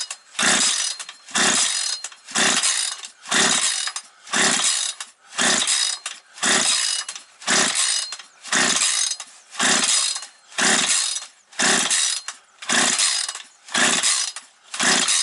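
Husqvarna 136 chainsaw that will not catch, its recoil starter yanked about fourteen times in a steady rhythm, each loud, close whirring pull about a second long and separated by short pauses, with no engine firing and no talking.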